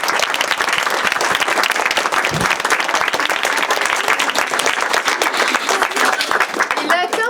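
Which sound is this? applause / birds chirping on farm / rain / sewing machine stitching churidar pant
applause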